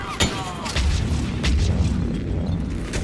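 A heavy weapon fires in Mass Effect 3 Legendary Edition at Grissom Academy, sending out booming blasts. One sharp shot comes early, then a sustained rumbling barrage follows, with further hits layered into it.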